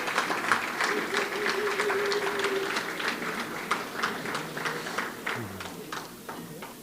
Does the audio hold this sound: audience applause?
yes